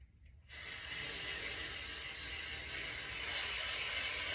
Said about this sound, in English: you take the spray, you shake it up, and then you just pretty much spray it all over your head